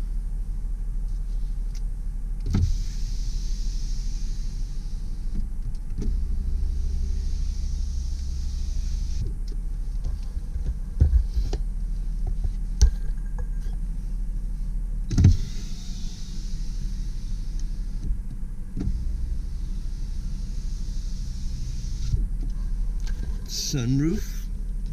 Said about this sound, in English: Let's check our windows.